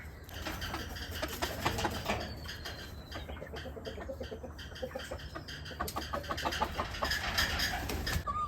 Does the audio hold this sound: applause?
no